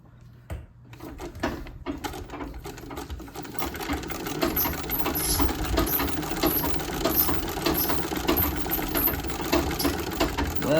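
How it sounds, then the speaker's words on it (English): An antique Singer treadle sewing machine runs close up, starting with a few hesitant clicks and then settling into a steady rapid mechanical clatter that grows louder and continues without talk. "I'm so into trying to figure out how to run the treadle that I forget my material."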